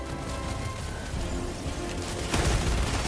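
Dense gunfire and explosions from the video game Helldivers 2 rattle continuously at moderate level, with a heavier burst near the end and no speech.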